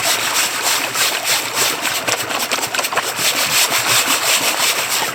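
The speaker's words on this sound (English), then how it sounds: "I'm actually scraping the clay base, so I'm not actually on bedrock, I'm on clay base." A sieve scrapes against a clay base at the foot of a small waterfall during gem hunting: steady, loud gritty rasping and rubbing, layered over a constant rush of nearby flowing water.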